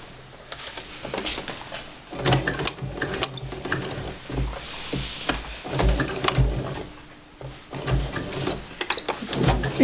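A sewing machine stitches a fabric face mask with a straight stitch, running in rapid rattling bursts with short pauses and brief stops.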